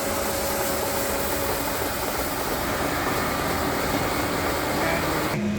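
A Eureka E110 floor scrubber runs in full operation mode, its brushes and vacuum motor giving a loud, steady whirring drone that holds without a break from start to finish.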